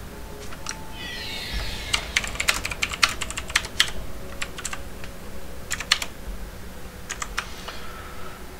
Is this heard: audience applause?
no